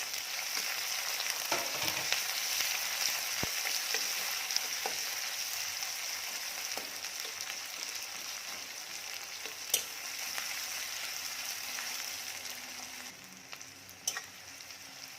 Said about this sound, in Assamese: এইখিনি 2 মিনিট মই ভাজি ল'লোঁ।